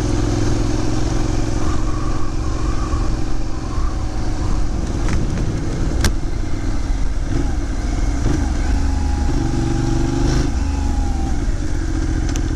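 A Benelli 752S motorcycle is ridden after downshifting two gears, its engine droning loud and steady throughout with wind rush and small clatters over it.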